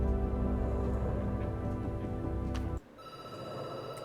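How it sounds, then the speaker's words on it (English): A telephone rings in a dark, tense setting, a loud, steady electronic ring that continues without a break and then cuts off abruptly, followed by a quieter, thinner tone. "The phone rings and you jump."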